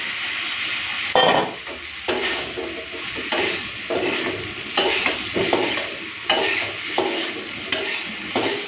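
Fried potato and cauliflower pieces tossed into spice paste in a little oil in a pan, sizzling steadily under regular scraping stirs, close and loud, with no talk.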